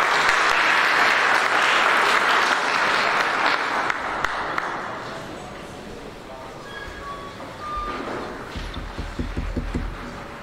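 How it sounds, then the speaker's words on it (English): Dense applause fills a public lecture hall on water and sustainable development, loud at first and then fading away to a few scattered claps, with faint voices and room noise near the end. "Can we clap hands?"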